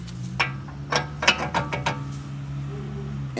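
A socket wrench ratchets against the front wheel bearing spindle nut on a BMW E46 ZHP, sharp metallic clicks coming in an irregular close series before fading to quiet.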